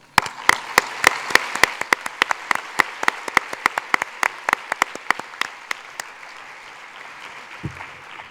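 Applause from a conference audience honoring an international planning committee, steady clapping with sharp individual claps standing out, then thinning and fading toward the end.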